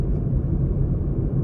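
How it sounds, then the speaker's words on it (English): A car drives on a bumpy road in Rhode Island, heard as a loud, continuous low rumble of road and engine noise from inside the cabin, steady and unbroken with no talk. "I think you can hear by the noises my car makes, like on the road"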